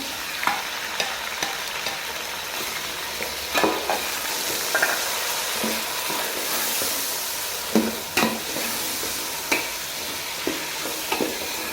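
Chopped tomatoes frying in a white chicken karahi give a constant loud sizzle, broken by scattered scrapes and clacks of a spoon stirring the pan, with no one talking.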